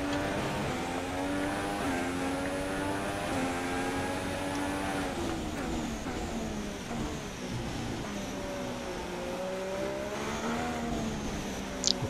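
Formula 1 engines from F1 2016 scream at high revs as one car passes a Manor on the Shanghai circuit. The pitch stays loud and steady, rising and falling through gear shifts as the cars run close together, with no speech.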